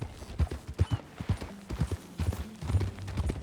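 Horse hooves clip-clop at a steady riding pace in Red Dead Redemption 2, close and distinct, with a few brief low game sounds and faint voice-like murmurs between the hoof strikes.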